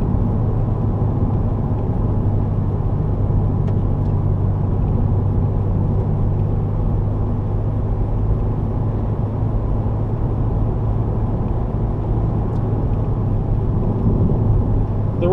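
A 2015 Subaru WRX drives along a back road, heard from inside as a steady low engine drone and road rumble that holds constant throughout, with no talking.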